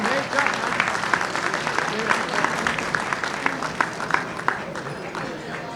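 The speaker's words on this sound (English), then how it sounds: "A round of applause for Colonel Katz." An audience at an evening award ceremony applauds steadily, a wide wash of many hands clapping that fills the room with no break.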